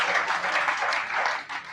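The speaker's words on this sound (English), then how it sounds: "A round of applause again for" Applause for the chief host at a voter-engagement event in the North West, a crowd clapping in a steady dense wash that dips briefly near the end.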